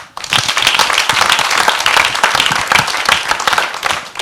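An audience applauds steadily after a remark on how well the candidates dressed, a dense, loud wash of many hands clapping that holds for about four seconds, at a televised French contestant program.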